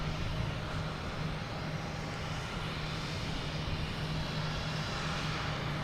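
Delta Embraer E175 jet arriving from Louisville, a steady broadband roar with a low engine hum holding evenly throughout, moderately distant and without voices.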